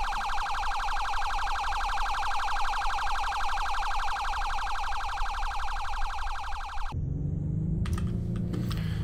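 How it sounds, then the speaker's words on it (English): A safe alarm in the Roblox police game Berkeley County Patrol rings out loud and steady, a continuous pulsing electronic siren tone that cuts off abruptly near the end, leaving faint clicks and low rumble. "looks like we just got a safe alarm that activated"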